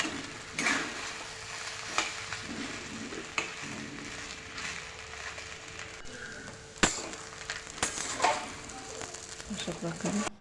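Sabudana khichdi is sautéed and stirred in a pan, a steady low sizzle broken by repeated spoon scrapes and knocks on the pan, with someone talking over it.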